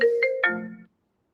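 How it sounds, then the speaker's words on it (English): A phone ringtone chimes during a call: three quick rising melodic tones, clear and fairly loud, fading out after under a second into silence. "your phone just ringing but we can hear you"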